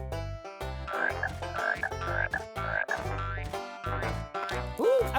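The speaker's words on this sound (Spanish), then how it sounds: "Reproduce a una rana." Cartoon frog croaking played back as a sound effect: a steady series of deep, regular croaks, loud and close with no talk over them.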